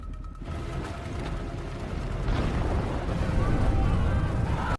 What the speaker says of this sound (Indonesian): tembakan artilerinya hingga membuat salju yang di atas gunung pun menjadi runtuh